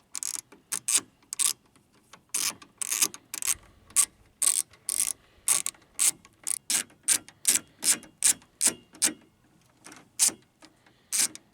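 Ratchet clicking in quick, steady bursts as three bolts fasten an aftermarket headlight ring on a Jeep, close and crisp with short pauses between strokes, no talking.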